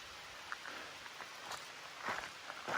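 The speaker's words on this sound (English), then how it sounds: "A light rain right now" Light rain patters softly and steadily, a faint hiss with scattered small drops, no voices.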